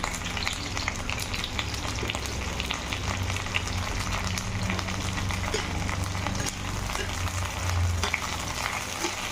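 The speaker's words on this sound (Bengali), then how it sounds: "তেলটা গরম হয়ে গেছে ভেন্ডিগুলো দিয়ে দিচ্ছি" Okra dropped into hot mustard oil, frying with a loud, continuous crackling sizzle and occasional stirring scrapes, close up and steady for several seconds with no voice.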